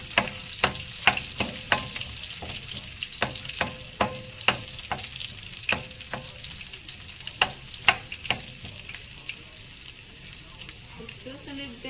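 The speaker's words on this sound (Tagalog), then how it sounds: "Igigisa ko na yung sibuyas." Onions sautéing in a small amount of cooking oil for Filipino caldereta, a steady close sizzle broken by frequent sharp clicks and scrapes of a utensil against the pan.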